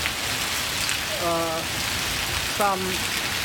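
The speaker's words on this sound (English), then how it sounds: "But now it is raining very heavily." Heavy rain pours down in Hyderabad, India, after hail breaks the summer heat, a loud dense steady roar of drops on surfaces, with a voice speaking briefly over it.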